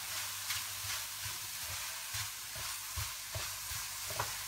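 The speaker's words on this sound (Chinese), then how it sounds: "加入20克熟芝麻，再次翻炒均匀。" Apple pieces stir-fried in a pan with toasted sesame seeds give a steady close sizzle and hiss, with soft rhythmic scrapes of the spatula repeating every half second or so, and no voices.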